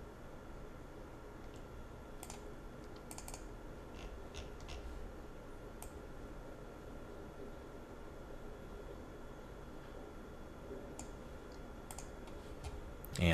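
Scattered mouse clicks come in small clusters over a quiet, steady room hiss while a file is opened in Notepad on a computer.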